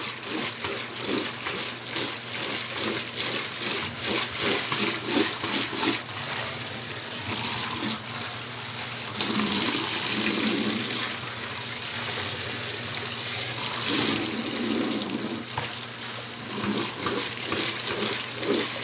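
Warm water runs steadily from a tap in a home near a washing machine, a continuous rushing flow with slight surges in volume, close and alone with no voices.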